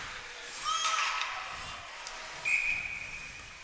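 A referee's whistle at an ice hockey game cuts through arena noise in two sharp blasts, a short one early and a longer, steady one about halfway through, with rink ambience beneath.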